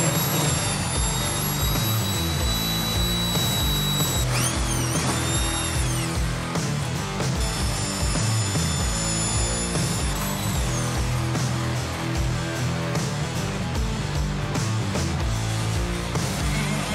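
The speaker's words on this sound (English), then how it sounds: "we're gonna drill these 2 big holes all the way through this wall" A power drill with a large hole saw cuts through a wall, a loud steady grinding whine that holds for the whole stretch with small pitch shifts as the saw bites.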